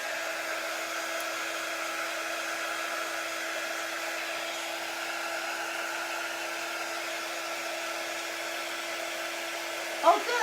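A hair dryer blowing to dry fresh paint on a surface runs as a steady, even whir the whole time, with a small knock near the end.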